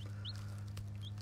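Baby chicks in a brooder under a radiant heat panel give a few faint, high chirps over a steady low hum.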